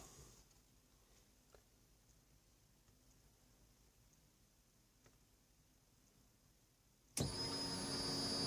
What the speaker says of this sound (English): Fuel pump kicked on.